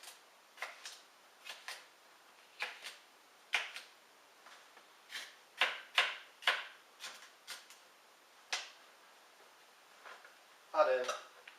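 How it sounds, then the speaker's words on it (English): Knife coarsely chopping a deseeded pepper on a board for a basic curry: a series of sharp, separate chops in uneven rhythm, close and moderately loud, with a brief clatter near the end. "we coarsely chop"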